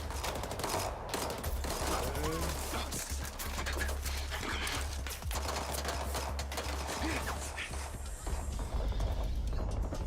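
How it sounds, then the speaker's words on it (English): Gunfire in a Fortnite-style shooter game, steady dense bursts of shots and impacts running throughout at close range, with voices talking over the fighting. "Reapy, I've been spotted. I'm taking fire"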